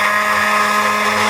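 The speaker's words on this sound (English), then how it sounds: "I'm blending the soup now with a stick blender." Stick blender whirring through nettle soup, a steady loud motor whine with tonal hum held continuously and close, no speech.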